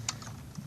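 Computer keyboard keys pressed on a Debian Linux system, two or three quick, light keystrokes close by in a quiet room.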